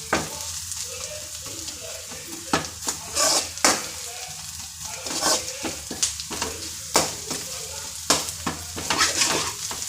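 Ginger, garlic and chili powder frying in oil for a hotel-style egg masala: a loud, close sizzle broken by repeated scraping stirs of a spoon in the pan, with no voices.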